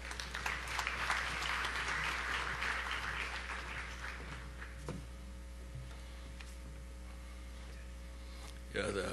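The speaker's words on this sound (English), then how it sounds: "a warm welcome, a round of applause, welcome Engineer Saidu Mohammed" Audience applause welcoming a speaker at a gas exporting countries symposium, heard as moderate clapping that swells early and then fades to a quieter patter, with a steady hum underneath.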